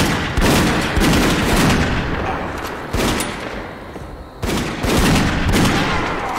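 Repeated gunfire from the video game Dead Second, loud, close bursts of shots at irregular intervals over a steady game background, with short pauses between volleys.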